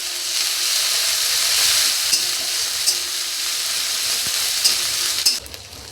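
Ginger paste and turmeric powder sizzle steadily in hot oil with browned onions in a pan, a continuous bright frying hiss with a few faint scrapes of stirring, no voices.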